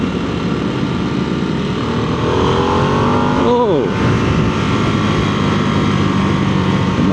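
Harley-Davidson Nightster motorcycle engine revving on a test ride, a loud throbbing run with a sharp pitch swing as it shifts midway, then steady pulling, with wind noise throughout.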